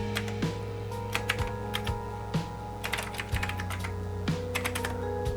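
Typing on the computer keyboard of a 486 DX4 100 MHz PC during a DOS setup: a steady run of quick clicky keystrokes with brief pauses, close and moderately quiet over a constant electronic hum.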